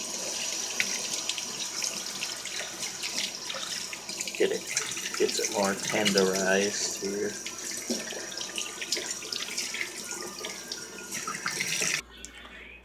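Hot tap water runs into a sink while raw chicken is rinsed under it, a steady splashing stream that shifts as the meat moves beneath the flow, with someone talking briefly partway through before the water cuts off.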